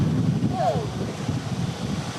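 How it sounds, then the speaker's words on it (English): Strong hurricane wind gusts roar during Hurricane Milton's landfall near Tampa, Florida, a loud, rumbling rush buffeting the microphone and rising and falling unevenly. "and now it's really gusting"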